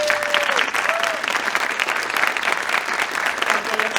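An audience at a high school Wall of Fame induction ceremony claps steadily and fairly loudly for several seconds.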